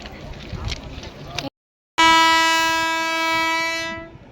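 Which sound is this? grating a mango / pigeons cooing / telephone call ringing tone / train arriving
train arriving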